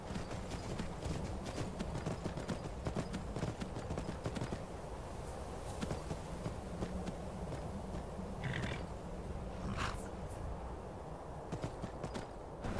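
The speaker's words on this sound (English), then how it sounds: "The magical Skyrim horses." Horse hooves clip-clop steadily in the video game Skyrim, a fast close rhythm of hoofbeats that runs throughout at moderate loudness, with no talk.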